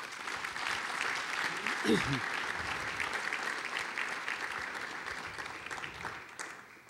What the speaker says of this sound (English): could we have a round of applause for these individuals?